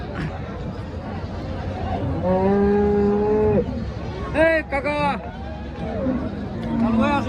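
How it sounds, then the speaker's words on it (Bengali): Cattle at the Aricha cattle market moo loudly nearby, one long drawn-out low and several shorter calls, over the hubbub of people talking. "গরু"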